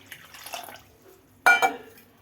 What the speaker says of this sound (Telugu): ఇది మునిగే వరకు, చక్కెర మునిగే వరకు నీళ్ళు పోసుకోవాలండి